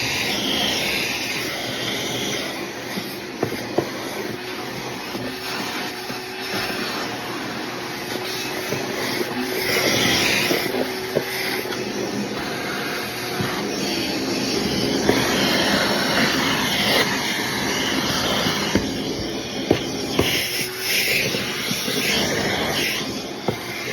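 A handheld cordless drill bores into a Storm Absolute bowling ball, giving a loud, steady, close-up roar and whine that runs unbroken for about twenty-four seconds, with occasional sharp clicks and knocks.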